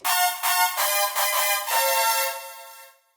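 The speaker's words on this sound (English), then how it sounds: "Brass preset that sounds like this" Roland JD-800 Mr. Brass synth preset: about five bright, punchy brass stabs in quick succession, played alone, the last held note ringing out and fading into silence.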